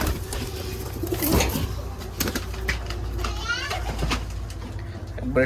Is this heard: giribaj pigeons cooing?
yes